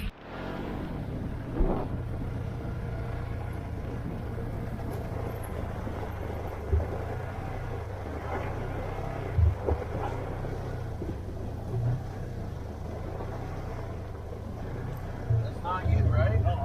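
Engine of a 2019 Kawasaki General side-by-side fitted with its stock clutch, rumbling low and steady with repeated uneven surges as the drive jerks on and off, under wind noise and occasional nearby talk.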